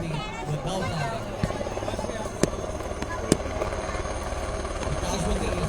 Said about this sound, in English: the helicopter carries out winching operations to pick up the casualty without landing